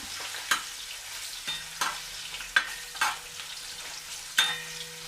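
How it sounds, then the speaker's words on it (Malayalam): Ginger and garlic frying in a pan for a Kerala-style chicken curry, a steady sizzle broken by four or five sharp scraping stirs spaced a second or so apart, close and fairly loud with no voices. "ഇനി നമുക്ക് ഈ ഇഞ്ചിയും വെളുത്തുള്ളിയും കൂടി നമുക്ക് ഇതിലേക്ക് ഇട്ട് കൊടുക്കാം. എന്നിട്ട് നമുക്കൊന്ന് മൂപ്പിക്കാം."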